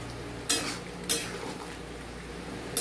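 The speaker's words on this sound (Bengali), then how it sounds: "চলো ভালো করে নেড়ে নিই" A spoon scrapes and knocks against a pot of simmering Bengali-style mutton curry, two clear clinks followed by softer stirring under a faint background hiss.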